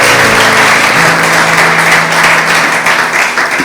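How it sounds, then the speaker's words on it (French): A congregation in church applauds its choir, a dense, steady wash of many hands clapping at full volume that runs unbroken from start to finish, with no speech over it. "Est-ce qu'on peut acclamer Dieu pour la chorale?"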